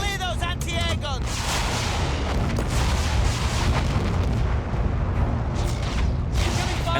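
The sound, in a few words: incoming artillery fire in video game Battlefield 1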